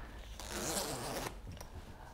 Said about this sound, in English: You can undo the main fastener and then zip it to this extra mesh panel which just lives behind